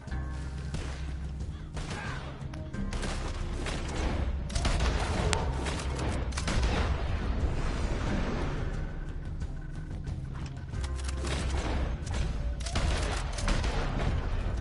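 Dense, continuous video game gunfire with repeated shots and booming impacts across a loud battle mix, from a PS4 shooter with one-shot headshot kills; faint talk sits beneath.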